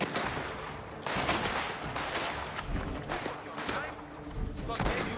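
Gunfire in Mafia: The Old Country, with rapid, repeated cracking shots and bursts scattered through a firefight, moderately close and loud, while people talk and shout over it.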